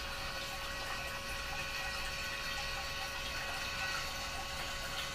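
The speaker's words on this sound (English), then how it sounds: "it's spraying. And it's basically just filling up inside of the carboy because it can't drain fast enough." An SS Brewtech keg washer pump sprays water inside a carboy that is filling up because it cannot drain fast enough, giving a steady, fairly faint rushing and gurgling wash that continues without a break.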